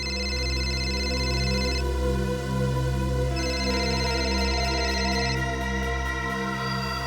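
A telephone rings in a repeating electronic pattern, with bursts of bright tones separated by short pauses. It is steady, clear and close, with no talking.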